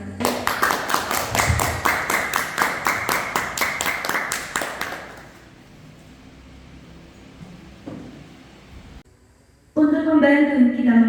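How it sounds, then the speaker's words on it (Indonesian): An audience at a junior high school student council candidate debate at SMPN 2 Pabelan claps loudly in a steady rhythmic unison for about five seconds, then falls quiet before a voice starts speaking. "Beri tepuk tangan yang paling meriah"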